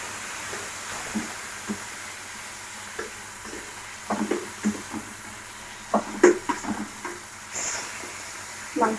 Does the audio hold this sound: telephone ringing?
no